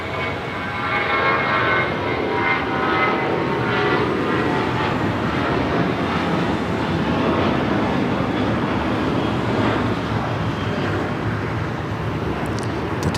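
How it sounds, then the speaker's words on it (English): An American Airlines Boeing 737-800 jet at Los Angeles International Airport, a loud, steady engine roar that holds broad and continuous, then eases slightly toward the end, with no talking. "That was American Airlines Flight 2388 heading to Vegas in a 737-800."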